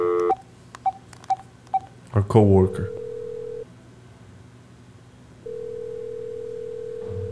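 Telephone being dialed in a game scene: a run of evenly spaced dial tones, then a steady dial tone that drops out and returns, with a voice speaking briefly in between.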